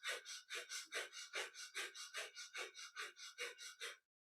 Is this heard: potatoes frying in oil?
no